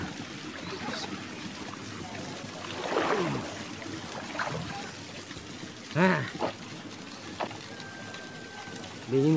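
Waterfall at the Wae Mabuange natural bathing spot in Manuba, Barru: steady rushing water noise fills the background while people talk and call out over it.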